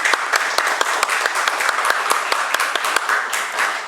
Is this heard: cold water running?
no